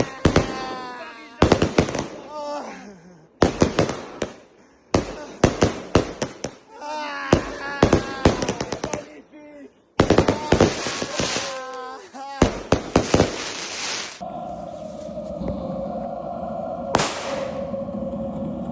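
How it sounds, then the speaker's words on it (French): Firecrackers going off in rapid bursts and scattered single cracks during a party celebrating a PSG football match, loud sharp bangs repeating in clusters with brief gaps, ending in a denser rumbling wash of blasts. "on va mettre des pétards un peu partout pour faire la fête"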